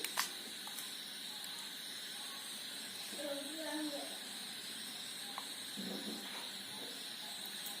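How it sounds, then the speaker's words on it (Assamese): Dhekia fern pakoras fry in a kadai with a continuous sizzling hiss of hot oil, which swells a little partway through. Someone talks over the frying. "আৰু একেখন কেৰাহীতে মই এতিয়া বনাম ঢেকীয়াৰ পকৰিটো।"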